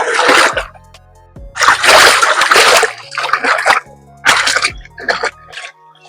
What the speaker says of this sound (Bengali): এই ঘাটে একটু বসে ওলটা এবার ধুয়ে